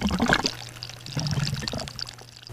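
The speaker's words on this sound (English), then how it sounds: "as the water level reaches the point of the 1-inch where it starts to spill, it vortexes and then it siphons" Water drains through a bell siphon in an aquaponics greenhouse grow bed, a continuous close pouring and trickling with a steady gurgling flow and no voices.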